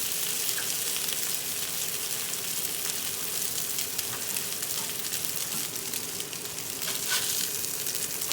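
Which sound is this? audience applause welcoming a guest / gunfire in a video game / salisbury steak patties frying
salisbury steak patties frying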